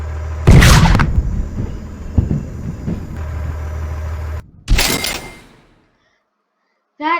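Cannon fire in the Henry Stickmin Collection game: a loud boom with a long rumbling tail under an engine-like drone, then a second sharp blast that fades into silence and a brief final burst.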